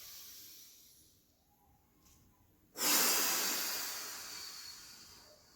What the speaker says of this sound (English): Inhale, belly breath.